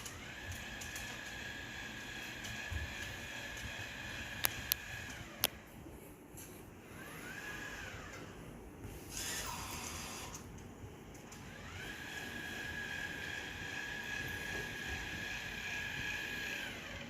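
An iRobot Braava M6 robot mop runs on a floor with a steady, continuous mechanical whir. It shifts in pitch partway through, and a few faint clicks rise above the constant drone.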